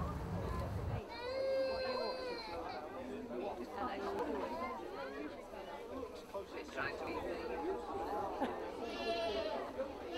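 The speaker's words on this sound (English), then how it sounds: "probably the most goats you're ever likely to meet in one place" Many goats bleating at a Yorkshire Dales agricultural show, repeated wavering cries from several animals near and far over a busy crowd murmur.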